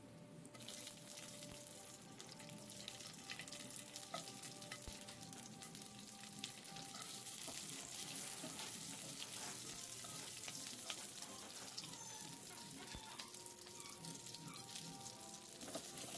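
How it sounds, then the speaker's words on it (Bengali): Nigella seeds and three or four slit green chillies sizzle in hot oil, giving a faint, steady, even crackle that runs without a break and has no talking over it. "এবার ওই তেলে আমি কালো জিরে ফোড়ন দিলাম আর 3-4টে কাঁচা লঙ্কা চিড়ে চিড়ে দিয়ে দিলাম।"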